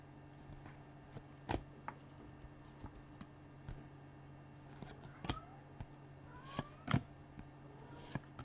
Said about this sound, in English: You hear my little kitty down there making his presence known.